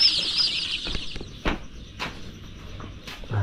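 Chickens at a coop cluck softly in brief scattered calls, with a high sustained chirping at the start and a few short thumps and flutters, all faint and without talk.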